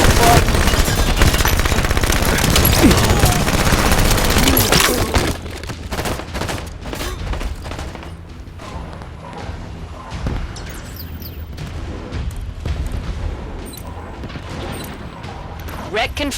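Halo 5 Warzone battle gunfire: dense rapid automatic fire and blasts, loud for the first five seconds, then sparser scattered shots and impacts under game voice callouts.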